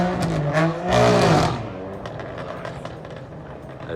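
A BMW M4 at a car meet gives a loud, close engine rev that swells and then fades back, followed by fainter vehicle noise in the background.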